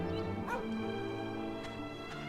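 Dogs in the video game Dragon Quest VIII give short yips and whimpering barks over steady looping game music, a few quick bursts spaced across the passage.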